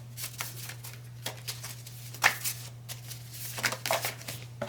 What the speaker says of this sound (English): this is how I shuffle my cards